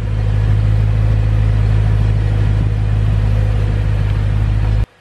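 A BMW E92 M3 with its V8 M engine idles loud and close, a steady deep rumble that holds for the whole stretch and then cuts off abruptly at the end.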